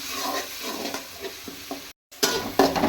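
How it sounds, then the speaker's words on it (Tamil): Goat brain sautéing with onion and tomato in a hot pan, a steady close sizzle with repeated scraping stirs, a brief gap, then louder stirring and frying resumes. "மூளையை சேர்த்து வதக்கிக்கலாம்"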